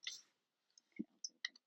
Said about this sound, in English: I'm just straightening out the cards that we already took